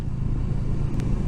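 A Kawasaki ER-6f with a 650cc parallel-twin engine and Delcovic exhaust hums with a steady, low throbbing drone on a countryside ride, loud and close, with no talking.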